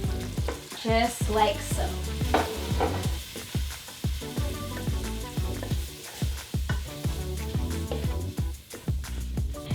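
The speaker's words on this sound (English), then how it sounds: "So we're actually browning our onions with the spice mixture." Onions brown in a pot with ground cumin and ginger, sizzling and popping with frequent stirring knocks. Tonal music plays underneath, and a short spoken phrase comes in briefly.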